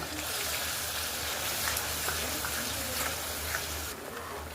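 Garlic, ginger and chili paste fries in a pan with a steady close sizzle and occasional soft stirring, broadband and constant before easing off slightly near the end; a voice is faintly present underneath.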